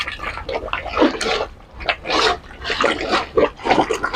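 Bhuna mutton cooking uncovered in a pot for mutton chawal, bubbling and sputtering loudly and close in irregular bursts, with no talk.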